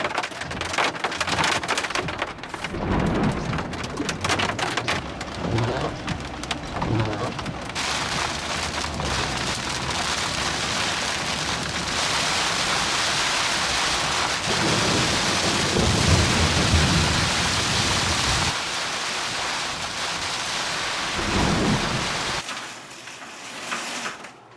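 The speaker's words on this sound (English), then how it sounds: "That storm was a little bit frightening." Heavy rain lashes a Jeep during a thunderstorm on a night drive home, a loud, steady hiss of downpour with heavier surges and low rumbles, continuing for over twenty seconds before tapering off at the end.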